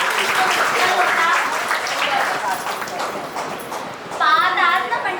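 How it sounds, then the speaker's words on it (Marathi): A loud, dense wash of audience applause fills a stage event and holds steady for about four seconds, then tapers as a voice or tune rises at the end. "एकदा जोरदार टाळ्या आपण उमटवल्या"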